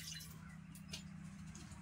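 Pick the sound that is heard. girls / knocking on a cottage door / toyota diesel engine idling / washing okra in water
washing okra in water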